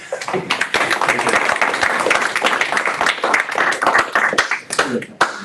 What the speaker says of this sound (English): A round of applause for Jack, please.